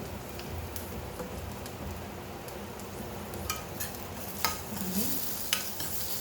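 Spiced Hyderabadi eggplant masala is stirred in an oiled pan, a soft steady sizzle running throughout with scattered light scrapes and taps of a spoon against the pan.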